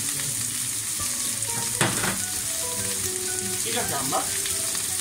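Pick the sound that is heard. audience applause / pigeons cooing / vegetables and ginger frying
vegetables and ginger frying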